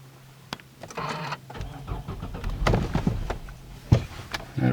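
A car is started with a push button using a portable jump starter: clicks and a door-like thud, then the engine cranks and turns over with rising rumble, close and fairly loud, with no talking.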